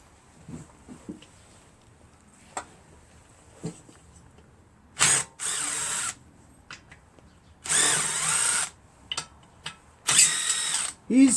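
A power tool, likely an impact driver or drill, takes the cylinder head off a Briggs & Stratton opposed twin-cylinder engine. Several loud whirring bursts of a second or so stand out over quiet clicks and handling noises.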